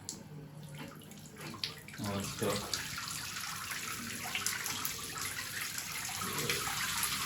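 Water streams and splashes steadily from a shower, with a person briefly speaking over the hiss.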